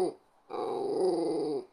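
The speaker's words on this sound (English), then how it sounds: "Why are you barking so much?" A dog growls and barks. There is a short burst, a brief pause, then a longer, loud and close harsh growl-bark lasting over a second.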